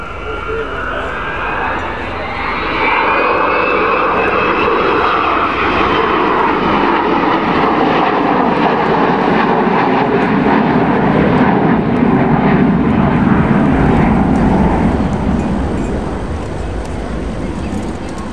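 An Avro Vulcan bomber flies back past the crowd at the Waddington Airshow, its jet roar swelling over a few seconds, holding loud and broad, then easing slightly as it passes.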